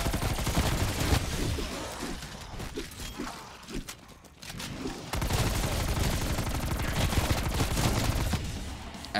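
Rapid automatic gunfire in Call of Duty: Black Ops Cold War Zombies, sustained loud bursts with a short lull midway before firing resumes, dense and close.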